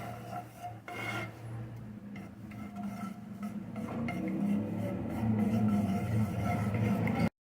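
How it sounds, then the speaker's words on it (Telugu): A spoon stirs mixed fruit jam and honey as it melts in a pan, making soft rasping and scraping against the pan that grows slightly louder and steadier, close by. "ఇదిగోండి జామ్ మొత్తం ఇలా మంచిగా కలిసేటట్టుగా మిక్స్ చేసుకోండి"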